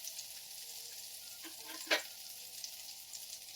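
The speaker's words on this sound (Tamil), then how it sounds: "நல்லா ஃப்ரை பண்ணிக்கோங்க" Chicken frying in melting butter in a pan over low heat, a faint steady sizzle with a few brief louder crackles and stirring scrapes.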